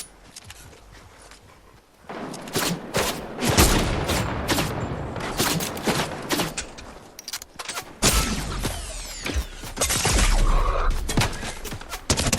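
Gunfire during a Fortnite match, with bursts of rapid shots and thuds crackling over a dense game soundscape, nearby and loud, with players talking over it at times.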